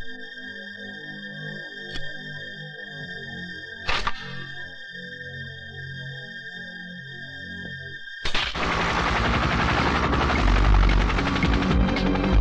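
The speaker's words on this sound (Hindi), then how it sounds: "कानिया हेलीकॉप्टर में आ रहा है, कुछ गड़बड़ है।" Loud, steady rotor roar of a helicopter swells in abruptly and holds near, after a quiet stretch with a few sharp knocks and a high electronic tone, in a Hindi action film scene.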